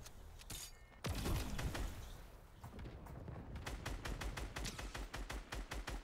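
Gunfire in the Fortnite video game: a loud blast followed by scattered shots, then a rapid rhythmic string of bursts from an automatic weapon, close and dense.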